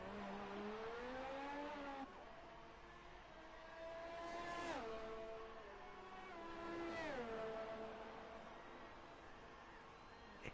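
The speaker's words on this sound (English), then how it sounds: "his car is still going on the run down to turn 3 as Bullet has retired from the session" Race car engine in an online racing game, heard as a faint engine note rising and falling through gear changes and revving, with the pitch sweeping up and dropping several times over about ten seconds.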